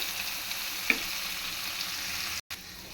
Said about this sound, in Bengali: একটু নাড়িয়ে চাড়িয়ে টমেটোর কাঁচা গন্ধটা যাওয়া পর্যন্ত একটু ভেজে নিতে হবে